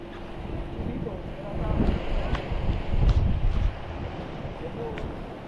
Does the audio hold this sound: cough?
no